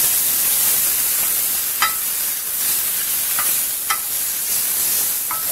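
Minced garlic is stirred through a sizzling pan for spinach tagine, a loud steady frying hiss broken by a few light clinks of the utensil, close by with no voices.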